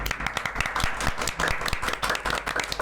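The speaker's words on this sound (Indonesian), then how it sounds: "Tepuk tangan dulu." Close, sharp clapping from a small group welcoming a gaming streamer guest, rapid and uneven hand claps layered densely across the whole stretch.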